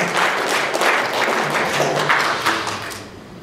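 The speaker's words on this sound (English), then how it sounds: "Everybody clap for Mordecai." A group claps for a child's answer in a small gathering, a brief ragged burst of hand claps and taps that keeps steady before fading toward the end, with faint voices underneath.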